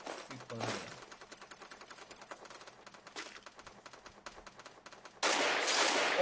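Rapid bursts of video-game gunfire crackle through a busy match, sharp repeated shots at mid loudness ending in a louder sustained blast near the close.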